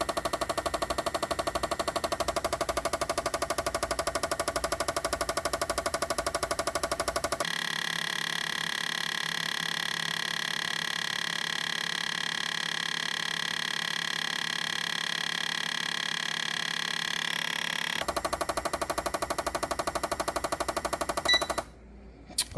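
A fuel injector flow test bench runs continuously for an extended stretch, a dense rapid mechanical clatter of pulsing injectors with a tonal shift partway through, loud and steady before cutting off at the end.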